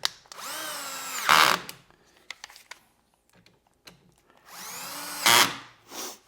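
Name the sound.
drill tightening screws on a Drillnado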